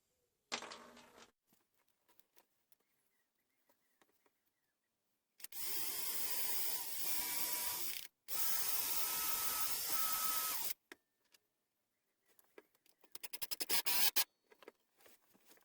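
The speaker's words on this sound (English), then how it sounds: "now I'm going to assemble it with some decking screws" Decking screws are driven into a wooden planter with a power driver, giving two loud sustained whirring bursts of a few seconds each, followed by shorter stuttering driver pulses, with quiet gaps in between.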